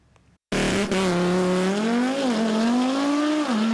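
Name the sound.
drag race car engine roaring as it launches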